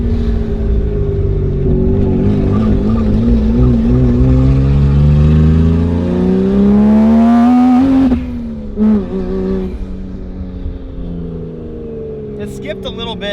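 Lexus fitted with a 1JZ engine rumbles loudly from inside the cabin while driving, a deep droning exhaust note that rises steadily under acceleration, then drops sharply as the revs fall away, with faint voices near the end.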